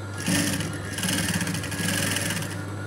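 A sewing machine stitches thread piping onto blouse fabric, running continuously at a steady close hum with a fast rhythmic needle pulse.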